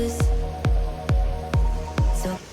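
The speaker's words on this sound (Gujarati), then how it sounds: "તમે જોઈ શકો છો વરસાદ કેટલો છે અત્યારે" Rain dripping at a house construction site, with five loud, evenly spaced drops or splats about half a second apart, each sharp and close.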